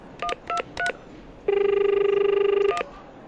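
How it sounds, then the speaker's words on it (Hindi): DTMF tones of a telephone number being dialed on a phone: three short beeps, then one long steady tone of over a second, with no talk. "ये फ़ोन से उन्हें फ़ोन लगाओ"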